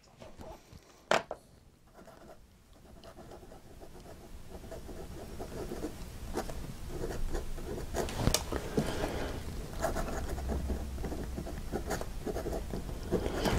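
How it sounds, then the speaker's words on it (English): Extra fine fountain pen nib writing on paper, a soft continuous scratchy scraping with small strokes and taps, close and fairly quiet, no talk. "I think you can hear that a little bit more on the paper, but it's an extra fine nib"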